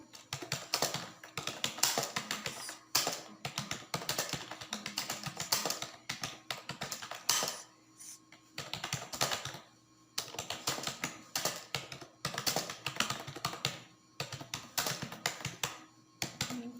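Bursts of rapid typing on a computer keyboard while writing in MS Word, with dense clattering keystrokes broken by short pauses, close and clear with no talking.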